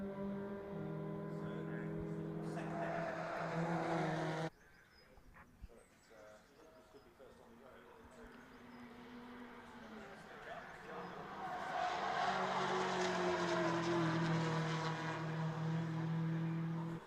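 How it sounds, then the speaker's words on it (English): Race cars at Oulton Park circuit roar past, their engines sweeping in pitch and swelling loud near the end, with commentary voices running over the racket. "good exit from the corner from Grimes"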